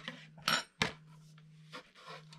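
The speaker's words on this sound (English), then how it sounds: "So I'm hoping I can get the lid off." A lid twisting off a frozen mason jar of homemade ice cream makes close scraping and rasping, with a couple of sharp metallic clicks and grinding turns over a steady low hum.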